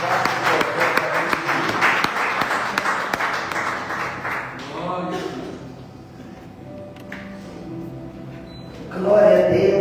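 Congregation in a church clapping after a sermon, a dense wash of applause that fades into murmured voices and a preacher speaking before swelling again at the end.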